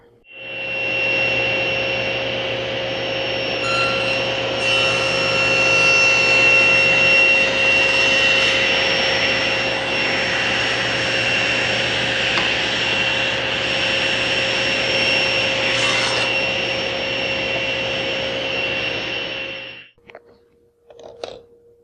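A SawStop table saw cuts a spline slot through the corner of a wooden piece held in a jig. The blade whines loud and steady at close range for about twenty seconds, then spins down and stops.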